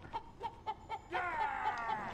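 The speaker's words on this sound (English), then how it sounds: "so that we have a magical chicken here" A magical chicken in the video game City of Brass gives a few short, evenly spaced clucks, then a longer, fluttering squawk, heard close and fairly quiet with no talking over it.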